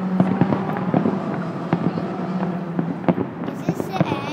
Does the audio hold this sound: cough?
no